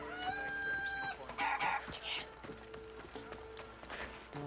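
Rooster crowing and clucking in Assassin's Creed Odyssey, a bright harmonic call near the start followed by shorter clucks over background music, moderately close.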